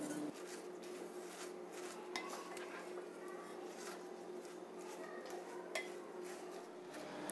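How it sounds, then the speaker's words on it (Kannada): Spinach handvo batter being stirred with garam masala powder and salt, a steady run of soft scraping and clinking of a utensil against a bowl, close and continuous with no talking. "ಗರಂ ಮಸಾಲೆ ಪುಡಿ, ಉಪ್ಪು, ಇದನ್ನು ಚೆನ್ನಾಗಿ ಮಿಕ್ಸ್ ಮಾಡ್ಕೊಳ್ಳೋಣ."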